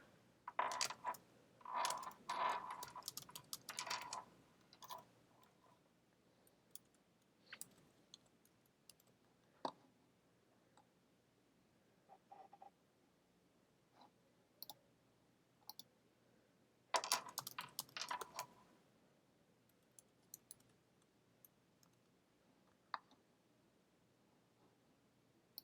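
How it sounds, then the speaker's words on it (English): Computer keyboard keys click in short bursts, with clusters of typing and single tab key presses separated by quiet pauses, close and fairly soft. "Again, I'm copying, tabbing to the next."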